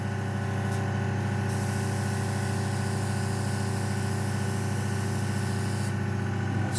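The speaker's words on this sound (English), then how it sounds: "So 20 psi will spray out." Airbrush spraying paint at 20 psi onto a spare model aircraft wing, giving a loud, steady hiss that runs unbroken throughout, close to the listener.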